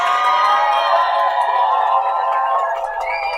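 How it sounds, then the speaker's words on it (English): A crowd at a storytelling slam cheers and whoops for a storyteller, loud overlapping voices forming a bright, sustained roar that fades slightly toward the end. "Let's have a huge round of applause for Vincent."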